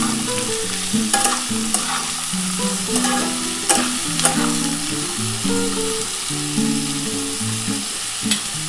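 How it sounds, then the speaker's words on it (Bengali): Potatoes and bitter gourd fry in a pan for a bitter gourd curry, giving a steady close sizzle with clinks and scrapes of stirring throughout, and no voices. "এবার আলু আর উচ্ছেটা একটু ভাজা ভাজা হলে তারপরে কিন্তু আমি পেঁয়াজটা দেবো।"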